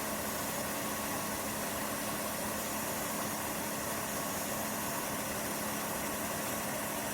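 A SOTCAR tower fan cooler with mist sprayers runs on its strongest wind setting, giving a steady, loud broadband whoosh of rushing air with a low motor hum underneath, unchanging throughout.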